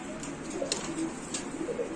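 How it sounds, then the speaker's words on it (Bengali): A grizzle pigeon coos softly in low, repeated throaty notes against a steady background hum. "এটা হলো গ্রিজেল কবুতর"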